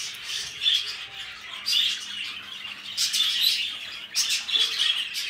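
Lovebirds and their chicks chirp in a steady stream of high, busy tweets, with several bursts of denser calling close by and no talk.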